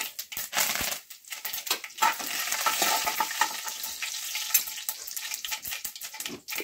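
Mustard seeds, cumin and curry leaves tempering in hot oil, a bursty crackling sizzle with sharp pops and stirring scrapes, close and fairly quiet, without talk.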